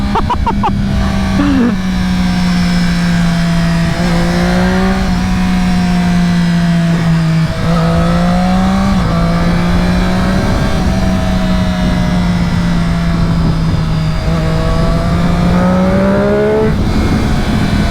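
Triumph Daytona 675R sport motorcycle ridden hard on a racetrack, its high-revving engine droning loud and close throughout, pitch rising and dipping as the rider works through the gears with wind roar underneath.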